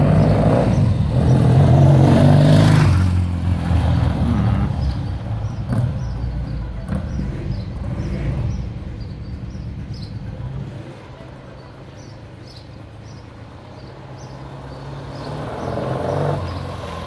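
A 1966 Triumph Trophy 650cc motorcycle engine revs up loudly at first, then settles into a lower, steady running rumble that fades somewhat and swells again near the end, with faint voices in the background.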